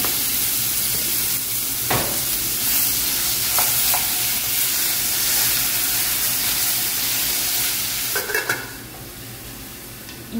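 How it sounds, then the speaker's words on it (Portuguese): Beef sirloin (contra filé) frying in lard in a pan gives a steady, loud sizzle that runs almost unbroken throughout, with a few clinks of a utensil stirring and a brief scrape near the end. "Enquanto a minha carne tá ali refogando"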